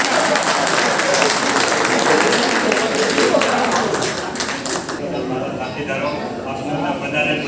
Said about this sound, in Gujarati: તાળીઓ જોરથી.